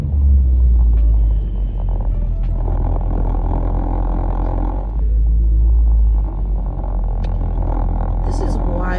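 Heavy morning road traffic heard from inside a car: a deep continuous rumble of the car and surrounding vehicles swells and eases, with a person talking over it throughout.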